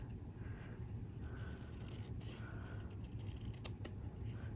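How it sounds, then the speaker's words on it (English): Paper snips making a few faint, brief cuts to trim a very fine strip off card stock for a diamond fun fold card, heard close against a low steady background hum. "I'm going to do that with my paper snips."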